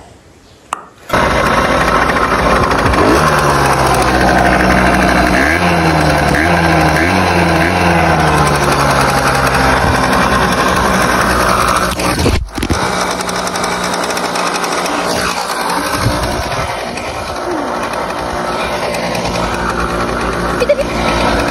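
An Aprilia SX50 50cc moped engine catches after a brief click and settles into a loud, steady, buzzing two-stroke idle close by for around twenty seconds, with one short dip midway and no talk.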